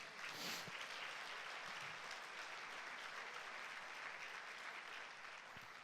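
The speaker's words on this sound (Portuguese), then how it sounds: "Quem recebe aí, dá um aplauso a Jesus." A church congregation applauds during a Sunday service, a dense, continuous wash of clapping at a distance that holds steady for several seconds and tapers slightly at the end, faint overall.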